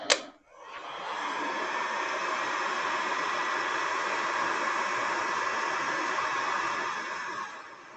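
A heat gun blasts hot air onto the internal surface of a Halloween prop piece, a steady, loud broadband rush that starts after a brief click and runs unbroken for several seconds before cutting off.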